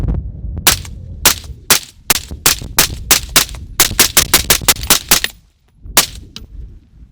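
Suppressed shots from a SIG M17/M18 pistol on a freezing cold range, a fast string of sharp, loud cracks in uneven bursts, some spaced and some rapid, with a short pause before a final shot.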